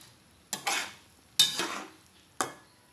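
Pork and sponge gourd stew boiling in a pot, stirred in three short bursts of utensil scraping and clinking against the pot, close and fairly quiet, with near silence between strokes.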